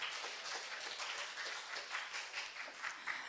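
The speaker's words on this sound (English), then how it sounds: "Let's give one more round of applause to the" Applause from a conference audience at an international applied science and engineering event in Taiwan, a dense steady wash of many hands clapping at moderate distance, continuous throughout with no talk over it.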